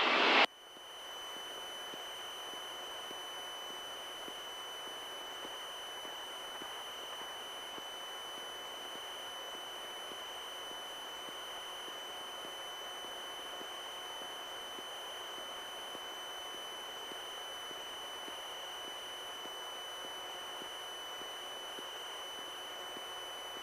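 A small single-engine airplane in flight drones steadily, with a constant hum and broadband cabin noise holding at an even level from start to finish, with no talk.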